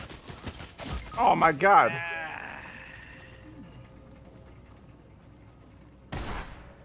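Shotgun fire in the Fortnite video game: a sharp blast early on, then a second loud burst near the end, with an excited voice exclaiming in between.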